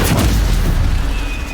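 Stupefy spell cast in Hogwarts Legacy during a duel, a loud booming magical blast with a heavy low impact that sustains briefly.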